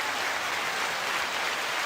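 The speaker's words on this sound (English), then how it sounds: "9-second applause" Audience applause for a guest introduced on a comedy panel show, a steady dense wash of clapping that holds evenly throughout with no voices over it.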